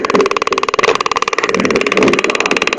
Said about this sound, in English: what you're hearing is the taser go off